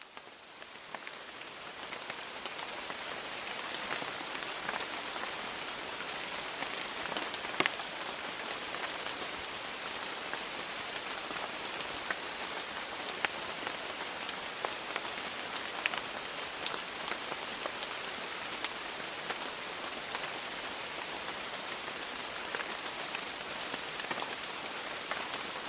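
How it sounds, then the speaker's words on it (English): Rain falls steadily through a forest canopy in a field recording, a dense, even patter of drops on leaves with scattered louder splashes, constant and calm from start to finish, with no voices. "this is one of the rain recordings that I made there"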